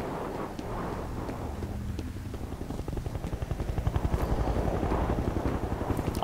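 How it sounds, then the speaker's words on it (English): A helicopter's rotor chop in the video game F.E.A.R. thuds in a rapid, steady pulse that grows louder and closer over a windy, rumbling background. "can hear a chopper, so that's good news for me."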